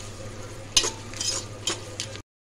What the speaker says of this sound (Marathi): गाजर पण तेलात फ्राय करून घेऊया।